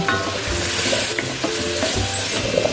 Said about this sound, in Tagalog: Lagay na natin yung century tuna. Yan. Mix lang natin.